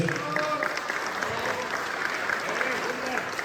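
Audience applause at the 2025 Bodrum Open award ceremony, a full, sustained crowd clapping with voices mixed in.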